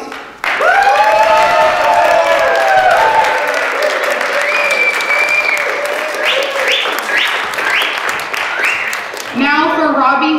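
An audience at an art debate event bursts into loud, sustained applause with whoops and cheers, close and dense, fading briefly before a final swell of clapping and shouts.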